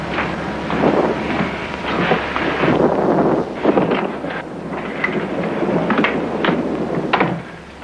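A thunderstorm rumbles with gusting wind and steady rain, a continuous loud wash of noise broken by a few sharper cracks and thuds.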